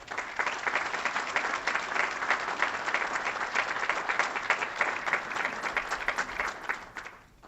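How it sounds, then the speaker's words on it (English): An audience at a county address applauds nursing home healthcare staff, a sustained round of many hands clapping with a rhythmic, pulsing texture that holds steady before fading at the end. "they deserve a round of applause"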